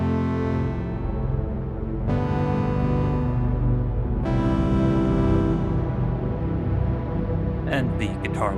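Synth processed by a Sonicware Texture Lab granular effect pitched one octave down: dense, low, grainy chord tones changing every couple of seconds, steady and full, ending with brief bright glitchy flutters.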